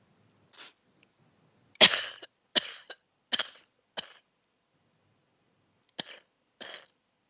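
A woman coughing in a series of separate, harsh bursts, several close together and then two more after a pause, near and loud in a quiet room.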